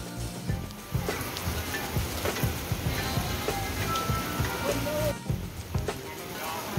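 Steady rain patters and splashes on surfaces in Noida, a dense continuous drumming, with a voice speaking faintly underneath.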